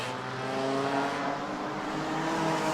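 Race car engines roar at the Armadillo Enduro 100 at New Smyrna, a loud, sustained, droning blare of several cars at high revs, with no break in the noise.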